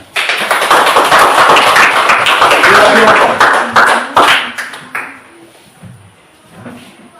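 A classroom of students claps hands together in a brisk burst that thins out into scattered taps and fades after about five seconds, leaving faint room noise and a distant voice.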